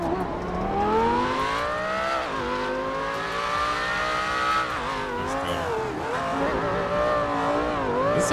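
A car in GTA 5 revs and accelerates through repeated gear shifts, the engine whine rising and falling steadily with light tire squeal underneath.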